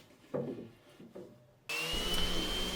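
An orbital sander sanding excess glue off a glued wood joint on a washing machine cover frame: a few soft knocks, then the motor switches on into a loud, steady whir that continues to the end.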